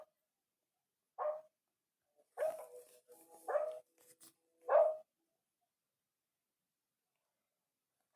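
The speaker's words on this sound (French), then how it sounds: "C'est un chien qui aboie ou c'est moi?" A dog barks four times in short, sharp separate yaps spread over a few seconds, fairly quiet and set against silence.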